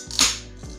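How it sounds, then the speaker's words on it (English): A bottle of Clown Shoes Clementine White Ale is cracked open, giving one sharp hiss-pop of escaping gas followed by a softer clink, close and clear with no talking. "Let's crack this open, check out the appearance."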